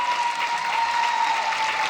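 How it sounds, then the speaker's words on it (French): An audience applauding at the close of a talk show interview, a loud, dense, steady clapping that lasts for two seconds with no talk over it. "On applaudit."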